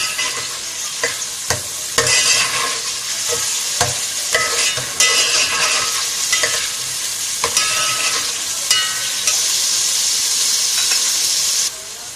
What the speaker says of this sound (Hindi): अब गोश्त को हम अच्छे से भूनेंगे।